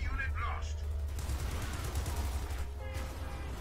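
Company of Heroes 2 battle with a grenade and gunfire, dense crackling bursts of shots and blasts rolling under a commentator's voice.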